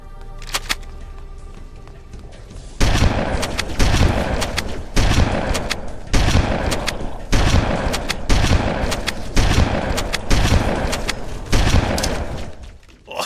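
Shotgun blasts from Halo: Combat Evolved, seven heavy booming shots at a steady pace of roughly one per second, each loud and punchy with a short decaying tail, following a quieter lead-in.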